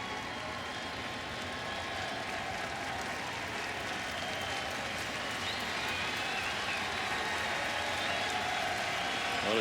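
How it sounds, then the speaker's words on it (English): Crowd at a Dodgers vs. Cardinals baseball game in the Cardinals' stadium cheers and applauds steadily with a broad, continuous roar, rising slightly toward the end, with a broadcaster's voice faintly under it. "the crowd very much wants Salas to strike out the side here"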